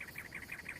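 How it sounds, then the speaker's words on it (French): Cactus wrens calling in the Arizona desert, a quick series of rhythmic, repeated raspy chirps sounding steadily at moderate distance, with a faint insect-like background hum. "C'est quoi comme oiseau? Des troglodytes des cactus."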